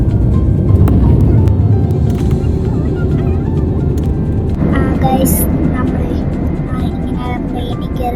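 A loud, steady roar of jet engines heard from inside an airplane during takeoff, a constant rumbling drone with faint voices and clicks over it.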